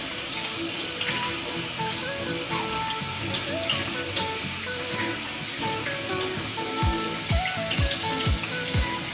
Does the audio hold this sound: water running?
yes